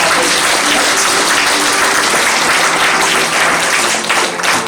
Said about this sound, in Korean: 한 번 더 큰 박수로